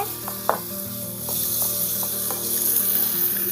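Tomatoes and onion fry in a pan with a constant bright sizzle, a low steady hum beneath it, and a few soft clicks and stirring knocks, with no talk.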